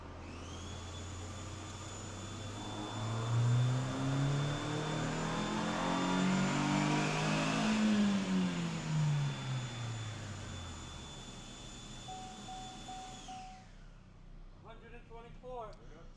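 A Chevy Sonic engine revs hard on a dyno, held in second gear with a DIY leaf blower supercharger, its pitch climbing steadily then falling away, with a steady high whine running alongside. It ends in quieter mechanical sounds.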